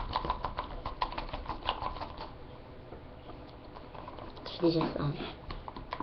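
Homemade lightening cream is whisked quickly in a bowl, producing rapid light clicking and scraping strokes, with someone speaking briefly over the mixing.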